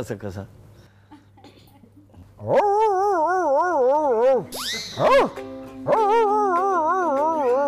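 A man imitates a dog with his voice, letting out loud, wavering, howl-like barking calls in long bursts after a quieter start, with a short break in the middle.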